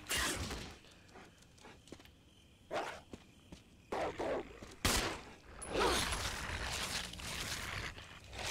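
Shotgun blasts in Resident Evil 1 Remake, played as Jill: a few sharp, loud booming shots spaced apart amid footsteps and mechanical clatter, with bursts of noisy impact between quieter stretches.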